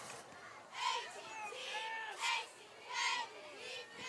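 A hometown crowd at a high-school 8-man football game between Izard County and Mt. View cheers faintly from a distance, with a few swelling bursts over a steady murmur.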